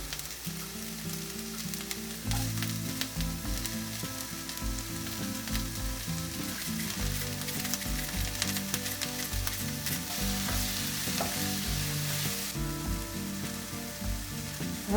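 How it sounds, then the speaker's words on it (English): Six garlic cloves sizzle and fry steadily in a pan in a tiny kitchen, with a continuous close crackle and occasional stirring, and no talk. "All right, now we add 6 cloves of garlic."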